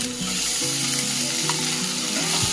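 Tomato sautés in a pan for chicken stew, an even close sizzle with soft crackles throughout and a faint tonal hum underneath, no speech.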